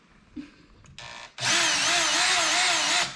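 A power drill runs during installation of an F1-style rear brake light on a vehicle, with a brief short burst followed by a loud, steady whirring run of about two seconds, close by.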